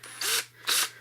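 Two short bursts from a power drill boring holes for bolts while building solar panel racking on an off-grid tiny house, each lasting about a fifth of a second, close and fairly loud with a faint hum underneath.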